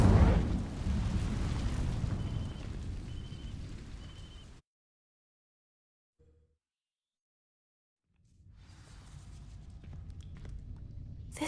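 A burst of Incendio fire-spell magic in Hogwarts Legacy, a loud whooshing blast aimed at dry vines, cutting off into silence before low rumbling ambience returns.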